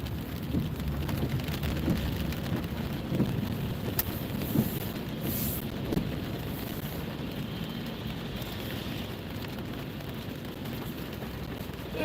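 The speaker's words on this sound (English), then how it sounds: "Rain in Arizona." Steady rain in Arizona patters on surfaces, with a low rumble underneath, continuous and even throughout.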